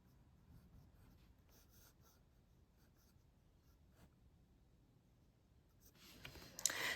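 An Asvine C80 fountain pen with a stub nib scratches softly across paper in short strokes, quiet and close, with a louder rustle near the end.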